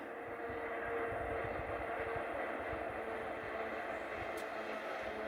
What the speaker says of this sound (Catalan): Arribada del tren groc a l'hora.